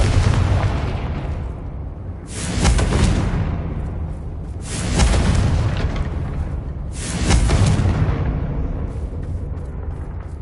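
Three big Confringo spell explosions from Hogwarts Legacy go off one after another, each a loud booming blast with a rumbling tail, spaced a few seconds apart, with no talking.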